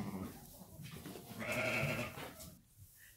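Young ram lambs bleat in a pen shared with sheep and chickens, a close, wavering cry rising in the middle against a soft barnyard background.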